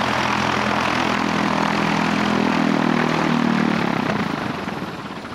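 A bush plane's propeller engine drones loud and close with a steady throbbing roar, then winds down and fades as the engine is cut near the end.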